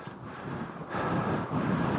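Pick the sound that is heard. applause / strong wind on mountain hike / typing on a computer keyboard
strong wind on mountain hike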